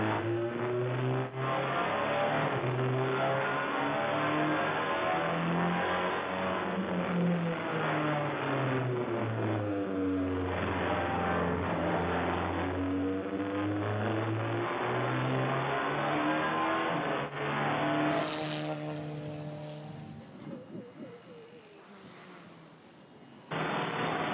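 Onboard engine of a TCR touring race car on a qualifying lap at Velocitta in TCR South America, loud and continuous with rising and falling revs through gear changes, then easing off near the end before a brief surge.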